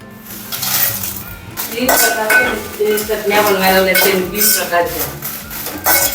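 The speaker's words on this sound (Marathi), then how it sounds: "त्याच्यातच मी मिरची परतून घेते" Green chillies are sautéed in a pan, with close stirring scrapes, clinks of a utensil on metal and a soft sizzle, while someone talks over much of it.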